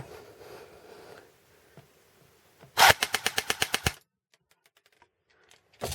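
A gun fires a burst on full auto over a chronograph, about ten rapid, evenly spaced loud shots within a second, followed by silence and a single later sharp report, close by.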